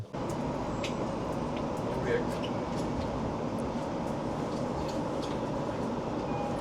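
A Tokyo train runs with a continuous, close rumble and rattle, heard steadily from on board, with faint voices mixed into the noise.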